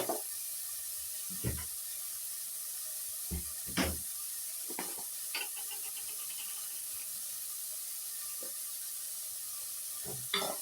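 Vegetables sauté in a hot pan for fried rice, giving a steady close sizzle with a few sharp scraping stirs of a utensil scattered throughout and no voices.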